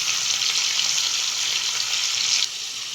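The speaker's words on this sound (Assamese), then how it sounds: "এয়া পনীৰ কেইপিচমান ইয়াত দি দিছোঁ। ফ্ৰাই কৰি লওঁ পনীৰ কেইপিচ।" Paneer pieces frying in hot oil over a low flame give a steady, close sizzle with a broad hiss throughout. The sizzle eases slightly near the end. No one speaks.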